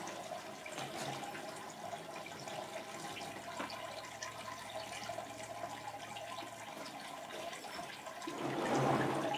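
Water pours through stacked mesh sieve bags during hash making, a continuous soft splashing rush with trickling and dripping that swells louder near the end, with no talking.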